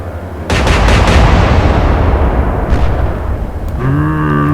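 Naval gunfire in the Atlantic Fleet game at an alternate Battle of Jutland: a salvo of heavy booming shots, then a long rolling rumble. A brief high whistle near the end gives way to steady tonal hum.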